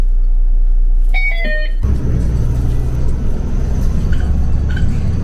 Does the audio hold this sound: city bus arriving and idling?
yes